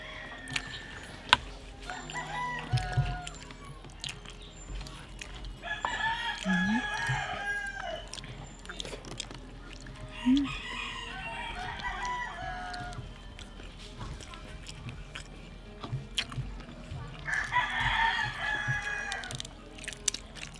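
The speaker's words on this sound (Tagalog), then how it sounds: "Nagtugtugaok ng mga manok, no?" Roosters crow several times at an outdoor cooking spot, each call long and fairly distant, spaced out among quieter clucks, clatter and background noise.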